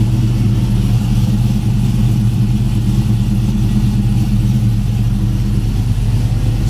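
A Chevrolet Tahoe engine running steadily after a new fuel pump install, a loud, even, low rumble close by with no change in pitch or rhythm.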